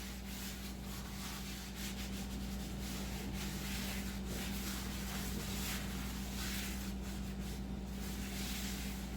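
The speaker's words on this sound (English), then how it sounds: "then you just rub your oil in to your skillet" Cooking oil being rubbed into a cast iron skillet by hand, a steady dry scrubbing rasp over a constant low hum, close and continuous with no talking.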